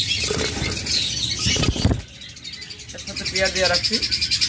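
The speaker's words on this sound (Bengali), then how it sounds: "এখানে একটা চমৎকার লাভবার্ড রয়েছে" Rapid, piercing chirps come from a caged lovebird close by, rising into a quick rhythmic chatter toward the end, with a voice briefly present at the start.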